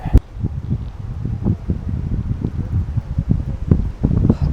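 Cold outdoor wind gusts buffet the microphone in uneven, rumbling bursts at close range with no voices.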